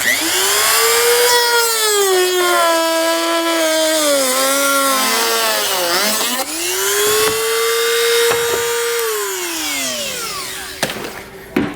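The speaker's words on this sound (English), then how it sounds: "Once you get your circles cut out, you can take a rotary tool and cut out the rest of it." A rotary tool cuts through plastic during a Roadmaster crossbar-style base plate installation on a 2019 Jeep. The loud, high whine rises and falls in pitch as the bit bogs and frees up, running almost continuously with a brief dip midway.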